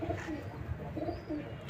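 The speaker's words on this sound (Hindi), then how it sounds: "ये हमारा मेन भूरा कबूतर है।" Soft, low coos from a brown breeder pigeon repeat in a few rolling phrases, nearby and fairly quiet, over a steady background hum.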